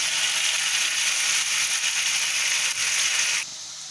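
Tomato puree hisses and sizzles loudly in a hot pan as a dense, steady spitting that drops away abruptly near the end, with no voices.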